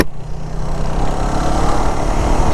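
A motorcycle cruising along a highway at night, a loud continuous engine drone with heavy low rumble and wind roar, steady throughout with no voices.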